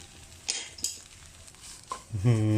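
Canned fish chili paste ingredients are stir-fried in a pan. A spatula scrapes a few times in short strokes over a low sizzle, then a brief tonal ring sounds near the end.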